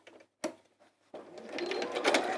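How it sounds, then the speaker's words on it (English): A sewing machine top stitching fabric: a soft tap and a sharp click, a pause, then the motor starts up and runs in a steady, rising whir. "Let's flip it over and top stitch this side"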